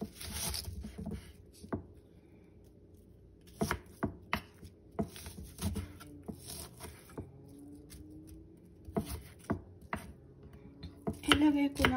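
Red onions are diced into squares on a board for a kale salad with parmesan, giving irregular sharp knife chops with pauses and soft scraping, moderately close and without talk.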